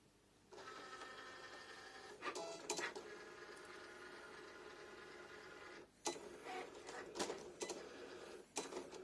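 A Cricut cutting machine cuts vinyl nearby with a steady mechanical whir, broken by short sharp clatters and pauses as the carriage moves back and forth.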